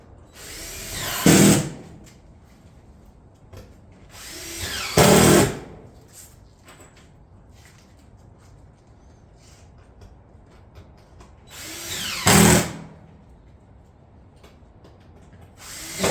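A power tool fastens Granite Ridge shingle panels on a roof in three short, loud bursts spaced several seconds apart, with only a low, quiet background in between.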